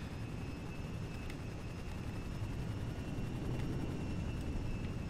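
Helicopters pursuing in GTA 5 give off a steady, loud rotor and engine drone throughout, continuous and unbroken with no voices.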